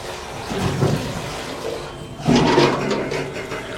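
A toilet flushes with a rushing surge of water after a quieter stretch of running water, loud and close in what sounds like a washroom with an overfull bowl.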